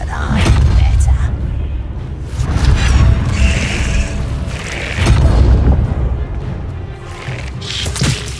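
Fiery Confringo spell blasts in Hogwarts Legacy, a series of heavy booming explosions roughly every two seconds with crackling bursts, loud and close, as game characters speak between the impacts.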